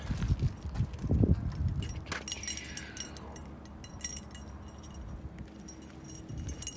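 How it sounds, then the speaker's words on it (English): Car keys jangling as the trunk of a 1971 Pontiac Firebird is opened; a loud metallic rattle of keys comes first, then quieter clinks and handling sounds. "Get the keys out for the trunk."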